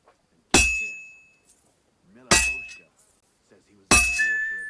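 Three separate ringing clangs of a hammer striking metal at a forge in Kingdom Come: Deliverance II, each a sharp bright strike that rings out and slowly decays, with brief quiet gaps between them.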